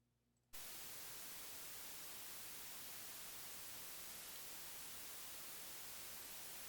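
Dither noise floor added to a recording, a steady broadband hiss like static that switches on abruptly after a short near-silent start and then holds constant and loud with no other sound.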